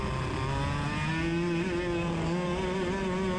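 A racing kart engine on a dry track drones steadily and loud, its pitch wavering slightly as the throttle is eased and reapplied, with no talk over it.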